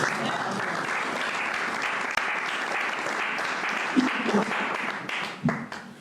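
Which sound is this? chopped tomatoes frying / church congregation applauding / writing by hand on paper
church congregation applauding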